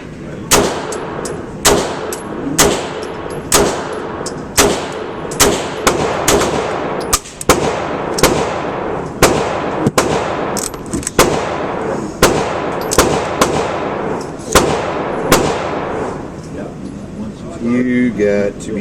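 A Beretta 92X pistol fired round after round at a range, each shot a loud, close, sharp crack with a short ringing tail, coming at a fairly steady pace of roughly one per second.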